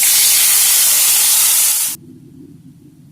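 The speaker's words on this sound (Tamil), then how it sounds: "நல்லா கொதிக்கிட்டோம்." Fish curry mixture in a pan bubbling at a hard boil, a loud steady hiss that cuts off abruptly, leaving a faint low bubbling.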